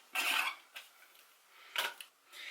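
A homemade dry chili seasoning mix with ground cloves is stirred in a bowl, heard as a few short, faint scraping clinks of a spoon against the container with quiet gaps between them and no talking.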